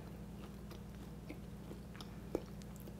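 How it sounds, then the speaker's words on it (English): Someone bites into and chews the crusty bottom crust of cheddar chive beer bread, giving soft close crunching and chewing sounds with one sharper crunch, and no talking. "because I feel like I'm crunching away."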